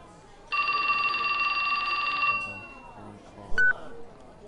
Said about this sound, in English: Why does his cell phone sound like an old phone?